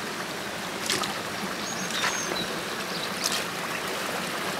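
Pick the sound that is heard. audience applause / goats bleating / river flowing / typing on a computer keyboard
river flowing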